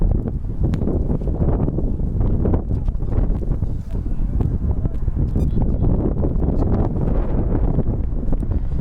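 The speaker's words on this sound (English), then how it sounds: "very, very windy here. Wind's going straight against Jace Beck" Strong wind buffets the microphone in constant loud gusts at an outdoor men's soccer match, a rough roaring rumble that never lets up.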